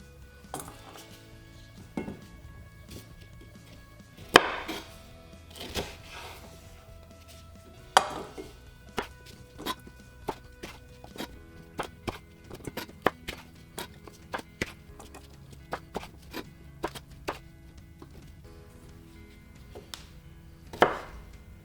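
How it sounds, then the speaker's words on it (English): End-of-season chilies chopped with a knife on a board, sparse irregular sharp knocks spread across the stretch, some single and some in quick clusters, quiet background between strikes, no talking. "They're all chopped now."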